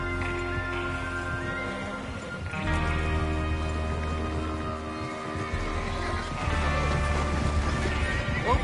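Horses neigh and hooves clip-clop in the Western video game Red Dead Redemption 2, set against a steady layer of music and ambience, with a brief lull midway before the full mix returns.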